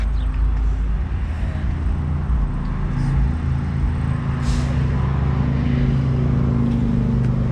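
A stock, naturally aspirated V6 car engine runs with a steady, deep rumble. The drone stays loud and constant, mixed with road and cabin noise, and a few faint higher chirps rise above it.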